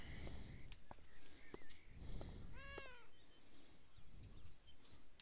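A cat meows in the video game Beyond Eyes, a single clear rising and falling meow near the middle, set against soft footsteps and quiet ambient game sound.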